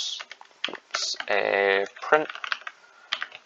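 A computer keyboard clicks in quick bursts of keystrokes while code is typed, heard close up under someone talking.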